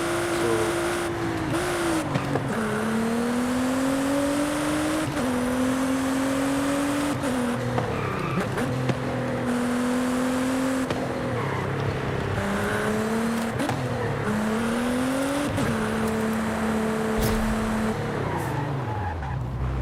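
A car drifts in Forza Horizon 5, driven with a Logitech G29 steering wheel: a steady engine drone rises and falls with shifting revs while tires screech and squeal almost continuously through repeated slides.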